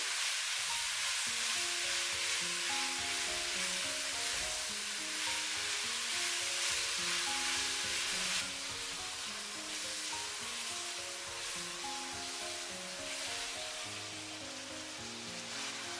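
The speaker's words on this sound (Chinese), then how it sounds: "再下入切好的西红柿、洋葱和青椒，大火快速的翻炒均匀，炒出锅气" Tomatoes, onions and green peppers sizzle steadily in a wok over high heat, a loud continuous frying hiss with the clatter of quick stirring running throughout, close up and with no talking.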